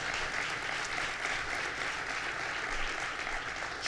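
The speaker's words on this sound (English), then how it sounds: "And let's give a round of applause to our great Secretary of State, Rosanna Rosado." Dense, steady applause from a government event audience greeting the Secretary of State, a continuous wash of many hands clapping at moderate distance with no talk over it.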